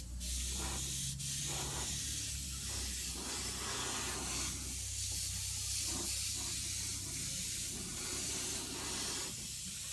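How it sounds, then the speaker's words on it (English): Airbrush spraying paint during a beginner practice session, a steady continuous hiss of air and paint that runs the whole time with a low hum underneath and no talking. "You practice your basic airbrushing skills."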